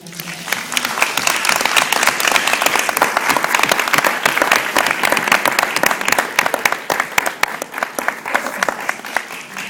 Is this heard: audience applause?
yes